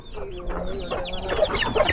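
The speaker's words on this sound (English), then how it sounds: "He's a big rooster." Big rooster on a ranch among rescued farm animals, clucking and chortling nearby in a busy run of throaty calls with low background noise underneath.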